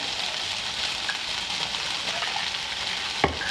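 Breakfast potatoes sizzle steadily in a hot pan, a dense, even crackle of frying that holds throughout, with one brief metallic clank near the end.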